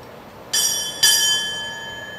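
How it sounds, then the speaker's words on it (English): Ship's bell aboard the aircraft carrier USS Harry S. Truman struck twice in quick succession, two bright ringing strikes about half a second apart, each sustaining and slowly fading over a faint background hum. "Time order, strike 2 bells."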